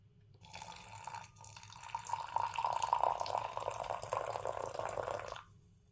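Hot water running from a tap for hand laundry, a steady faint splashing stream that starts, flows for several seconds and then stops.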